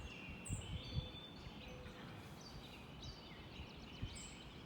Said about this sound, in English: You can hear the morning doves, all the different birds this morning,